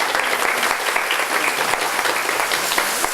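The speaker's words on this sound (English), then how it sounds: "Well, an applause for our..." A studio audience applauds warmly at a television cooking show, dense continuous clapping from a crowd heard close throughout.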